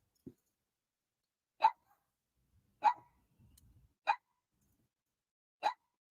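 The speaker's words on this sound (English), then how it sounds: "I'm going to have to call my annoying dog in that moment before it starts to get annoyed" A pet dog named Pablo gives five short, sharp barks, evenly spaced about a second apart, fairly faint and somewhat distant in a quiet room, with no talking.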